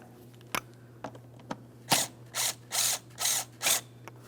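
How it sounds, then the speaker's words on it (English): A ratchet works a 10mm-headed hose clamp on a 2003-2008 Toyota Matrix 1.8L, loosening it. A few sharp single clicks come first, then five rhythmic ratcheting bursts, close up over a low steady hum. "let's loosen our 10mm headed clamp just enough that we can start pivoting this to pull it away"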